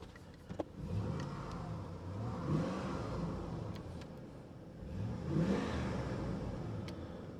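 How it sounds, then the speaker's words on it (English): A four-wheel-drive vehicle's drivetrain engaging and disengaging while driving, heard as a steady mid-engine drone with two swelling surges in revs, plus a few light clicks early on. "Sounds like the four-wheel drive is kicking in and out, so that does work."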